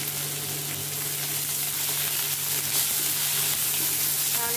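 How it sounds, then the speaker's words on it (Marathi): Dried Kashmiri chillies fry with onion and curry leaves in a pan for a lauki dal, a continuous close hiss of sizzling oil with a steady low hum beneath, no voices. "आता ह्या मिरच्या टाकणार आहे, सुक्या मिरच्या आहेत त्या काश्मीरी,"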